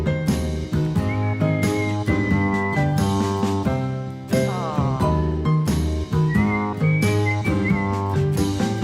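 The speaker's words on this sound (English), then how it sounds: "Now you've got to whistle, because I can't." Someone whistles a bright melody over steady instrumental music, the whistled line rising and falling in short phrases.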